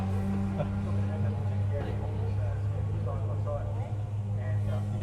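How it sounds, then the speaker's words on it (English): A rear-wheel drive rally car with a 6-speed sequential gearbox runs through a qualifying stage of the Ashley Forest Rally Sprint 2019, giving a steady, sustained engine drone that holds at an even loudness for several seconds. "You can hear the benefits of that 6-speed sequential box on that car."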